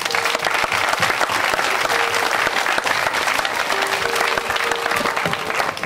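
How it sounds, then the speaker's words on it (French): An audience at an evening film screening on a 14 July celebration in Biot applauds the filmmaker, steady dense clapping throughout, loud and close, with no voices. "je vous demande de l'applaudir"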